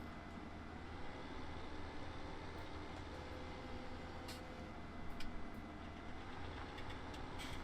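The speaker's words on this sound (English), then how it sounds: "first real job ploughing for this tractor" Tractor ploughing a field in Farming Simulator 17, a steady low engine drone with a continuous broadband rumble and faint higher clicks, constant and fairly quiet throughout with no talking.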